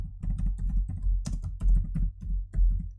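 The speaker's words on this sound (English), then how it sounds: "we press Shift-Enter on the keyboard" Keys clacking on a computer keyboard during Python work in a Jupyter notebook: a steady run of close, crisp typing strokes with a few louder key presses, such as a Shift-Enter combination, standing alone without talk.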